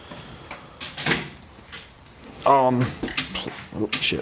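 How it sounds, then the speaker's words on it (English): A sticking plier drawer of a Snap-on tool box is yanked open with a scraping, juddering sound, preceded by a few clunks, as a person talks alongside. "Plier drawer that gets stuck sometimes here."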